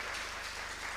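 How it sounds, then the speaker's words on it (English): Applause from an audience at a national data protection moot court competition ceremony, a brief steady wash of clapping hands, dense and even, heard from within the room with no voices. "So a round of applause to everyone who was able to make it to the oral rounds."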